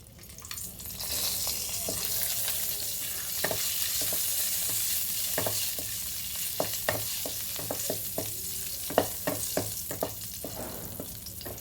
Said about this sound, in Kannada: ಇದು ಚೆನ್ನಾಗಿ ಕಮ್ಮಿ ಉರಿನಲ್ಲೇ ಹುರ್ಕೊಬೇಕು